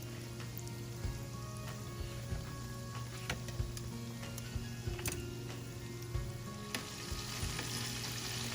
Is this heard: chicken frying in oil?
yes